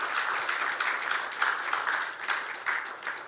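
Warm applause from a crowd at a Ghanaian presidential event, a sustained rippling of many hands clapping with occasional sharper swells, fairly close and loud.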